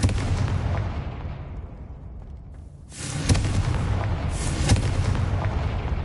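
Confringo fire spell explosions in the Hogwarts Legacy video game on PS5: a sustained rumbling blast, then a sharper, louder boom near the three-second mark and another burst after it, with a full, close roar and no talking.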